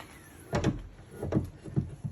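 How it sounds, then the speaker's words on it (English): The trunk of an Electra Meccanica SOLO, a small electric three-wheeled car, is popped open. The latch releases with a couple of quick mechanical clunks, and a few softer knocks and thuds follow close by with no talking. "I'll pop the trunk here"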